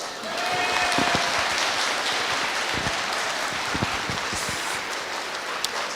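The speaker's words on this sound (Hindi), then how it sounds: "सारे लड़के जोर जोर से लड़कियों के लिए पहले तालियां बजाओ" An audience at a motivational speech applauds for the girls, a dense, even clapping that lasts throughout with no voices over it.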